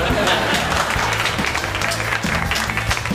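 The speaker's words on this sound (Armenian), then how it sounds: "Լավն էր, եկեք ծափահարենք Մամիկոնին, Հարութին։" A live audience applauds comedians at a stand-up comedy show, a dense burst of clapping from a crowd that fills the short moment, with a voice talking over it.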